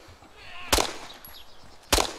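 Two sharp gunshots in DayZ, roughly a second apart, each a loud abrupt crack with a short decaying tail over faint background noise.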